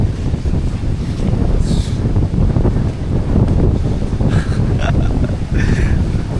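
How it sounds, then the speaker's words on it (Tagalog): Strong wind at the coast in Bataan roars and buffets the microphone throughout, a loud, continuous rumble with gusty surges, and faint brief bursts of higher noise. "Napakalakas ng hangin"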